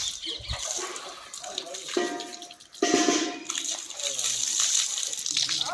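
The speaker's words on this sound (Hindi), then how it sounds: "ठंडे पानी से स्नान करने का अपना ही आनंद है" Cold natural spring water splashes and pours as someone bathes outdoors in a jungle setting, with uneven bursts of splashing and gushing, a voice talking over part of it.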